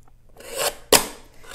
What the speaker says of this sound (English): So I'm going to trim from here, and I'm going to cut it down to 3 1/8